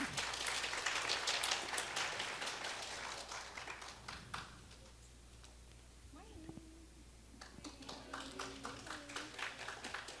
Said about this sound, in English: Round of applause for Daisy, please.